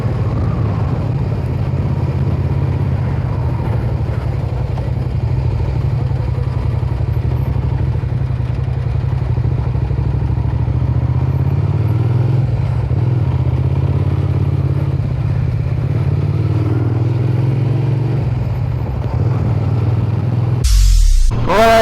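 A new motorcycle's engine runs steadily for a short shakedown ride, a loud continuous low drone with slight swells in revs, close and constant, ending in a brief burst of clatter.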